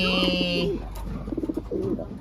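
A racing pigeon gives low, throaty coos in short bursts nearby, following a brief steady electronic tone at the start.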